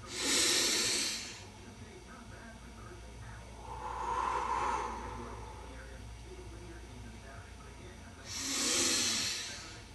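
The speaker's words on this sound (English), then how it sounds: "those are my breathing sessions" Heavy breathing after a back and biceps workout set, slow loud exhales or hisses repeated about three times several seconds apart, close and alone.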